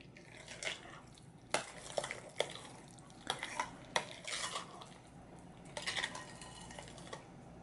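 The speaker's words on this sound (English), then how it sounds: "Just kind of mix that in while the rice is still hot, just so that will break down and incorporate" Hot Vietnamese sticky rice with black-eyed peas being mixed in a bowl, faint scraping and soft clicking strokes in irregular bursts, quiet and close, with no talking.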